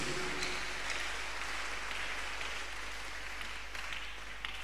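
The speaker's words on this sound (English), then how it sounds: "I want us to clap our hands in appreciation unto this great God" Congregation clapping hands in church during a Tuesday miracle service, steady dense applause that holds evenly throughout, fairly faint and diffuse with no voices over it.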